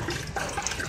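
Water runs from a self-serve tap at a restaurant counter in Osaka, Japan, a brief continuous splashing gush, close and fairly loud.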